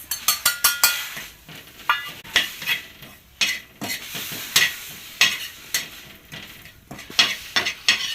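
Dry coconut roasting in oil in a pan, stirred with a spoon: quick rhythmic scraping strokes against the pan over a soft sizzle, close and fairly loud, with no talking.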